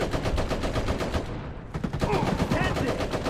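Machine gun fire in the Iron Harvest video game during a Rusviet attack: dense, rapid bursts that repeat steadily, loud and close, with game voices briefly calling out over the din.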